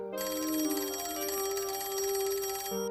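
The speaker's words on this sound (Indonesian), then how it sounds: "Citizen melihat tim Garnet dan menghubungi mereka melalui telepon umum yang ada di dekat mereka." Public telephone in the zombie TV series Z Nation rings with a bright electronic trill, one long continuous burst of ringing, loud and alone.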